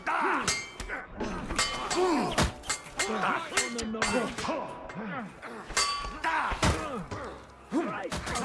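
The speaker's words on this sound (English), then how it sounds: "these church bells are freaking me out" Church bells ring in Kingdom Come: Deliverance II, heard as repeated metallic clangs and dings mixed with other sharp hits and busy game sounds, fairly loud and irregular.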